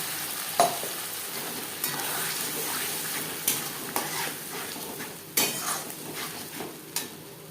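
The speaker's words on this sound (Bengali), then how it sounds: "পেঁয়াজ হালকা করে ভেজে নেব খুব বেশি কড়া করে ভাজবার প্রয়োজন নেই দিয়ে দেব মশলার তেল" Two medium onions frying lightly in spiced oil for a rohu fish curry, a soft steady sizzle broken by a handful of sharp spatula clinks and scrapes against the pan.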